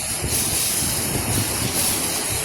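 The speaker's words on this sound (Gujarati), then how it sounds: "ને અહીંથી પાણી આવતું હોય છે, જો" Water flowing out at the Kankeshwari Mata temple shrine in Diu, a steady, close, hissing rush that runs unbroken throughout with no talk.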